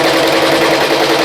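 Embroidery machine (BAI Mirror 1501) stitching a sketch design onto a T-shirt: a steady, loud, close mechanical whir with a fast continuous needle chatter, running unbroken with no voices.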